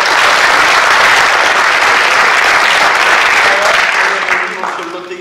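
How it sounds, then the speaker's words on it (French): Sustained applause from an audience after a talk, a loud, dense wash of clapping that stays steady and then fades near the end. "Je demande d'applaudir très fort."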